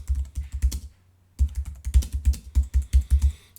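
Keys on a computer keyboard are typed in quick close bursts, one short pause breaking the clicking. The taps sound near, crisp and moderately loud, with no talk.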